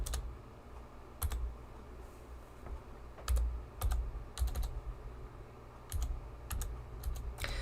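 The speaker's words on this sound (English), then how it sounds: "I'm typing like one finger at a time right now because the keyboard's twisted out of the way." Slow typing on a computer keyboard one finger at a time, sparse single key clicks and small bursts spaced irregularly in a quiet room, close and fairly soft.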